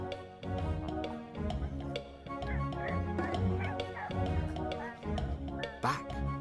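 A cartoon dog barks in a children's animated story set around a sinking boat, giving a run of bright, yappy woofs and whimpers over music, with voices mixed in.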